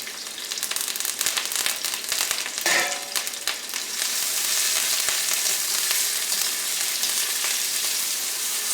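Ginger, green chili and curry leaves hitting a pan of sliced onions, a dense, bright sizzle that crackles loudly throughout, with a sharper burst partway through and no voices.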